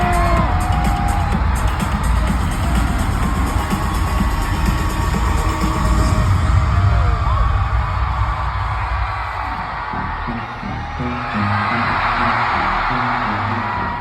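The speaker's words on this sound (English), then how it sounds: "you can hear the crowd going crazy after the girls reappear" Concert crowd at a show in Oakland roars with whoops, yells and screams as the group returns to the stage to perform, a dense, loud, sustained wall of cheering.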